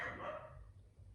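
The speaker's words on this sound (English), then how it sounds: "that's next door's dog" A neighbouring dog gives a single short bark heard from a distance, faint and muffled, followed by a low ambient hum.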